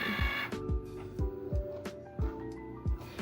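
A Cricut cutting machine scans sticker registration lines with a whirring carriage motor and repeated soft mechanical clicks, about eight evenly spaced pulses, close and fairly quiet.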